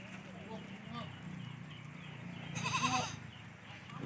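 Goats, including kids, mothers and pregnant goats, bleat over people talking nearby at a livestock sale, with one louder, wavering bleat rising clearly above the voices near the end.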